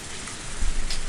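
Torrential rain in the Higurashi When They Cry visual novel makes a dense, steady hiss that fills the short stretch evenly, loud and unbroken, with no voices.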